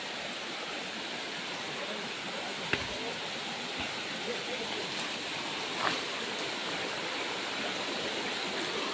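River water flowing in a steady, broad rush, faint and continuous, with a couple of small clicks over the top.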